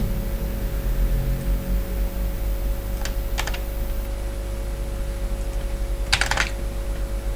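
Short bursts of computer keyboard typing while writing Python code, two brief clusters of clicks a few seconds apart over a constant electrical hum, close and with no voice.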